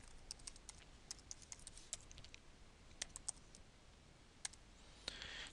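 A computer keyboard being typed on while a file name is entered, with sparse, quiet key taps in an uneven rhythm, ending in a slightly busier cluster of clicks.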